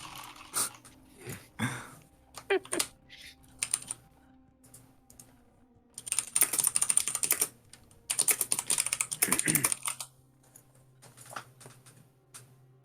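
Computer keyboard typing in bursts of rapid clicks, close and fairly loud, separated by quiet gaps, with a low dog growl or whimper now and then in the background during a live gaming broadcast.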